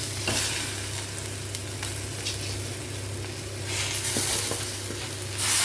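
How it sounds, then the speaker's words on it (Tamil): Ground spice masala sautéing in a pan for chicken biryani, a continuous close sizzle with scraping stir strokes and a low steady hum beneath, no voices. "நல்லா வதக்கி விடுங்க"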